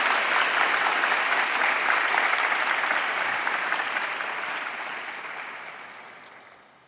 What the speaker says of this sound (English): Big round of applause for the great work that you people are doing.